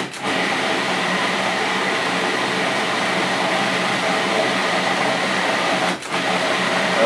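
A food processor pulses basil pesto with Parmesan, a loud, steady whirring motor drone running almost unbroken with one short dip near the end, close and alone.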